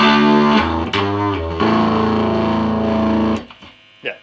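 Electric guitar played through a Fender 300 PS amplifier with a distortion effect, sustained chords changing a few times over about three and a half seconds before cutting off, loud and alone, then a brief softer strum.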